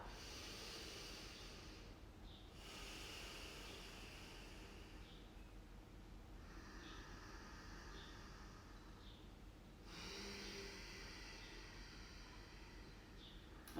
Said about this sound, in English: Close the eyes and have 2 deep breaths here.